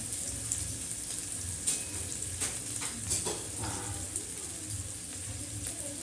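Onion sizzles in oil in a pan for poha, a constant soft frying hiss with occasional stirring clicks and faint kitchen sounds in the background.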